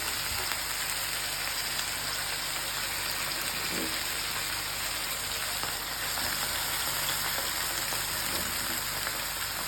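Cauliflower for khichuri frying in hot oil, giving a steady, even sizzle and crackle that runs unbroken from start to finish at a close, moderate level.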